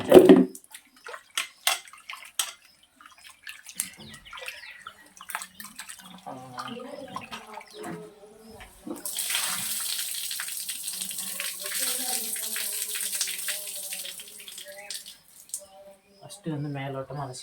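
Chicken pieces are sloshed and rinsed in a full bucket of water, with splashes and dribbles coming in bursts. A stretch of hissing running water follows, and a person talks intermittently over the washing.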